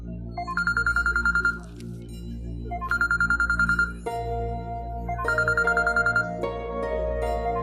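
A mobile phone ringtone repeats in three bursts of electronic melody over a low background hum, close and clear, with no talking.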